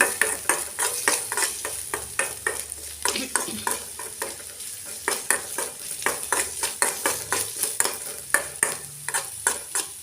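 Onions frying in a pan for a radish curry, a continuous close sizzle punctuated by a brisk, regular rhythm of spatula scrapes and taps as the onions are stirred.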